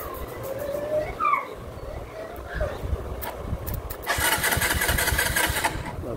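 A Honda Wave125 motorcycle with a starter relay and battery problem cranks and catches into a steady running engine. Brief sputters come first, then a sustained roar. Voices can be heard faintly in the background.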